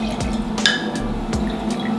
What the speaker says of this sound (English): And then we're gonna do 1 cup of fresh lemon juice.